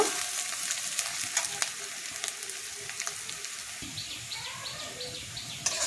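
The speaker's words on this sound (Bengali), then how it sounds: "পেঁয়াজটাকে আমি লাল লাল করে একটু ভেজে নেব" Onions and slit green chillies fry in a pan for a pomfret curry. A close, steady sizzle is broken by stirring clatter, with faint bird chirps in the background.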